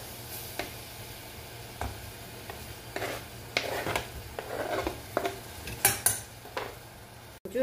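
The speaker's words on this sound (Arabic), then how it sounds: "نجي نحط البصله تاعي على الزيت" Onion frying in a little olive oil in a pot, a soft sizzle broken by frequent utensil scrapes and clicks as it is stirred, growing busier toward the end.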